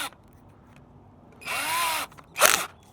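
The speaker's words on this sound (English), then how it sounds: "Make sure it's on drill, and then we're going to drill the holes." A cordless power drill set to drill mode whirs up close in two short bursts, the first lasting about half a second and the second a brief higher-pitched spin, with quiet pauses around them.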